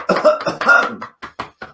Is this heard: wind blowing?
no